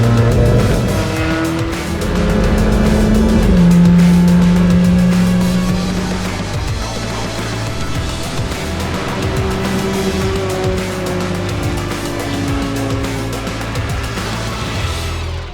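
A race car at a women's motorsports event runs hard on track, its engine roaring loud and close with rising and falling revs, tire squeal and skidding across the whole stretch.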